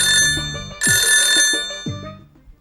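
A telephone rings loudly and close by in several bright, jangling bell bursts with short gaps between them, and no one talks.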